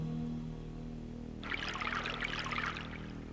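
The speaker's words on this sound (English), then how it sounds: "You run the tap for a few seconds and take some water." Running tap water pours into a cup in the DreamWeb video game, a broadband splashing stream starting abruptly partway through and lasting about a second and a half over a steady low electronic hum.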